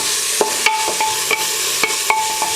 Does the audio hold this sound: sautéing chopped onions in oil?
yes